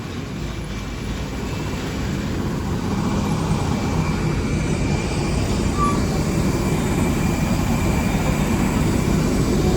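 An airplane at an airport terminal gives a steady, low engine drone and broad hiss. It holds at an even, moderate level throughout, with no talk and no distinct events.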